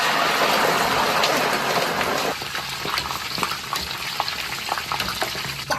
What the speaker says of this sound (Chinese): 锅再下串串